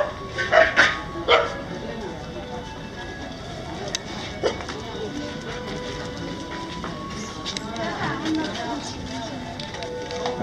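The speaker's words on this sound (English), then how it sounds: "puppies in front of a shrine" Puppies bark in front of the Swayambhunath Stupa shrine in Nepal, a few sharp yaps early on over steady outdoor crowd noise and chatter, with further scattered sounds later.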